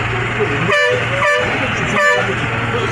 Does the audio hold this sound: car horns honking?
yes